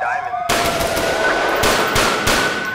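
Machine gun fire rattles through the streets in GTA IV, loud sustained automatic bursts with repeated sharp reports, beginning suddenly after a moment of quieter ambience.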